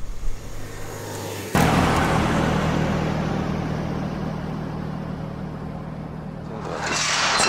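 Lada Niva 4x4 driving along the road, a steady close interior rumble of engine and tyres after a loud onset, holding evenly throughout.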